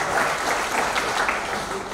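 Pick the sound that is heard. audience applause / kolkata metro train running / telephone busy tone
audience applause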